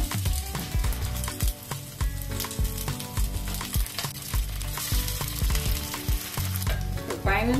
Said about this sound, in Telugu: ఒక సైడ్ ఫ్రై అయిందండి, రెండవ వైపు తిప్పుకుందాం.